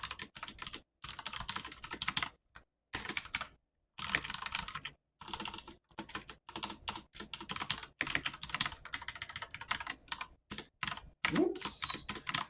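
Keystrokes clatter on a computer keyboard in uneven bursts of rapid typing, close and fairly loud, broken by short pauses while someone codes OpenGL; no talking over it.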